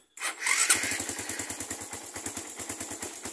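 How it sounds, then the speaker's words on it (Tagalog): A Suzuki Raider 150 motorcycle's repaired starter motor whirs briefly, then the engine catches and settles into a steady, close, rhythmic idle. "Ayan, gumagana na starter guys."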